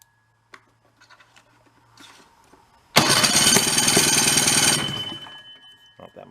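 An old, garbage-picked Rockwell engine, choked, coughs through a few faint attempts and then catches with a loud, harsh roar for about two seconds before dying away.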